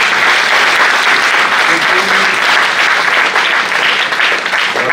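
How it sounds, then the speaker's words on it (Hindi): An audience at a state youth meet claps loudly for the organizing team, a dense and sustained round of applause that stays strong for the whole stretch, with a faint voice underneath. "सचिन नेम जी और निशांत जी और शांति और उनकी पूरी टीम के लिए एक बार जोरदार ताली बजानी चाहिए"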